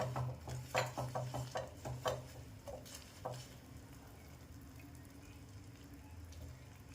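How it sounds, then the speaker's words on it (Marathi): Melted jaggery syrup cooks in a pan for sesame chikki. A few soft clicks and scrapes come early, then a faint, steady low bubbling and hiss continues on its own. "आपल्याला अजून एखादं मिनटं हा गुळ शिजून घ्यायचा आहे"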